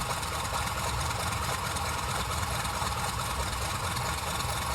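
Sukhoi Su-31 aerobatic aircraft engine running steadily in Microsoft Flight Simulator, a continuous droning idle with a low rumble and dense broadband hiss, constant loudness throughout and no talking.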